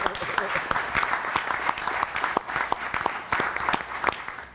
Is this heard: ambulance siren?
no